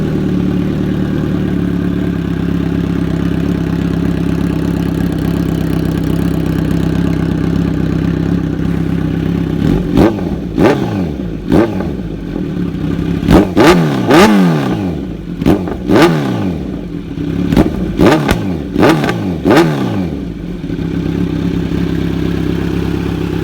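Warmed-up Kawasaki Z900 motorcycle with an SC Project S1 exhaust and no baffle, idling with a steady low rumble, then blipped through a series of loud, sharp throttle revs that rise and fall back to idle.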